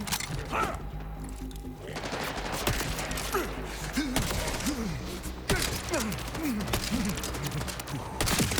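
Gunfire in the video game Borderlands 4 comes as scattered bursts and shots over a busy game soundscape, with creaks and chirping effects mixed in.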